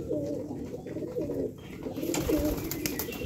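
Pigeons coo in repeated low, wavering calls close by, over a constant background murmur, with the cooing carrying on through a brief lull.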